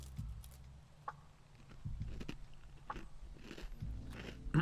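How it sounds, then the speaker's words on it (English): Crunchy Melba toast being bitten and chewed close to the mic, a few sharp crisp crunches spread irregularly over a quiet background. "Sorry, I'm eating a Melba toast."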